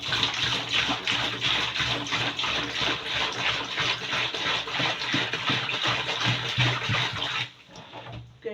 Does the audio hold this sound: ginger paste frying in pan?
no